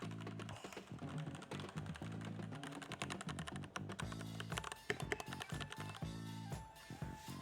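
Keys on a Keychron C1 mechanical keyboard clack in rapid, continuous typing runs, close and clear with brief uneven pauses, no speech.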